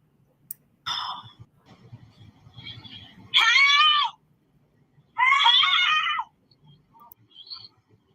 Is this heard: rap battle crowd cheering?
no